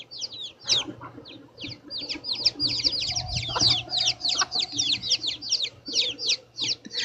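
Chickens cluck steadily in an outdoor pasture, dense overlapping calls close by with chirping birds mixed in and a faint low background rumble.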